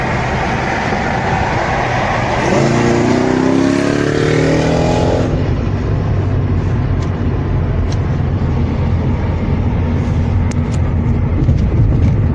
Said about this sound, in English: Now we're going for our test drive